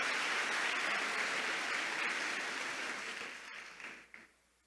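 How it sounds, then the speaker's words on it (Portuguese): Church congregation applauding during the Mass of the Roses at Santa Teresinha, a continuous wash of clapping that fades out over a few seconds. "salve de palmas"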